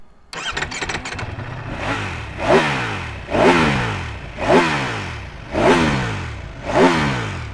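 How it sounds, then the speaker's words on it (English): A Ducati motorcycle engine starts, then revs repeatedly, five loud rising-and-falling throttle bursts in a steady rhythm, close by. "So can you rev up your bike?"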